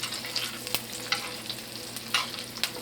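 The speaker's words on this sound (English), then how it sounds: "I'm just going to tilt my skillet so I can go ahead and baste this side." A New York strip steak sizzles in a tilted skillet of foaming butter and herbs as it is basted, with a soft continuous fry broken by repeated spoon clicks and splatter pops, no voices.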